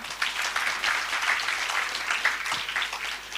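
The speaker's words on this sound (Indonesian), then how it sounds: "아멘이면 박수 한번 쳐보세요. Kalau amin tolong tepuk tangan dong." A church congregation claps together after a Korean pastor's sermon is interpreted into Indonesian, a dense, steady patter of many hands that stays fairly loud and even for the whole stretch, with no voices over it.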